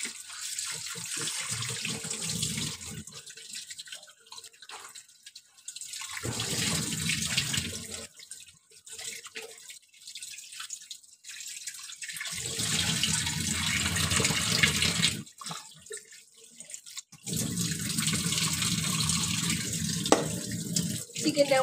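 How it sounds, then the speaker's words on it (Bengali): Tap water runs into a sink while raw chicken is rinsed under it, the steady splashing rush breaking off in several pauses and starting again, fairly close and at moderate volume. "চিকেনটা আমার ভালো করে ধোয়া হয়ে গেছে।"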